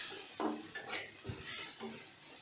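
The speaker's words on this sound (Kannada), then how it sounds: "ಇವಾಗ ಇದನ್ನೆಲ್ಲ ಸ್ವಲ್ಪ ಫ್ರೈ ಮಾಡ್ಕೋಬೇಕು" Onion with ginger-garlic paste and salt fried in a pan for potato curry, heard as a few scraping stirs and clinks against the pan over a faint, steady sizzle.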